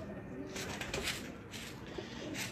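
Pigeons coo softly in a loft in Faisalabad, low murmuring calls repeating through steady background noise, with faint voices nearby.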